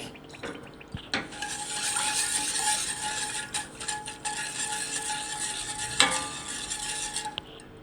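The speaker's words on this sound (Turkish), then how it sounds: "Şimdi kıvam alıncaya kadar yine hala karıştırmaya devam ediyoruz" A spoon stirs a thickening milk and chicken breast pudding (tavuk göğsü) in a pot, making soft repeated scraping and swishing over a faint simmering hiss, with a sharper clink near the end; quiet and close, no voices.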